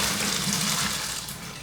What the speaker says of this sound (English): So I'm gonna drain that pasta.